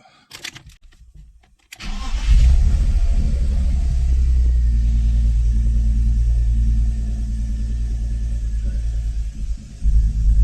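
A BMW engine fitted with a swapped Schrick intake manifold cranks briefly, catches with a loud roar, then settles into a heavy, uneven rumble close by, its rough idle wavering and surging again near the end.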